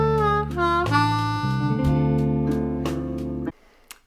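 Blues harmonica lick in third position, lower octave, a short run of held and bent notes stepping through several pitches, played alone up close and stopping sharply.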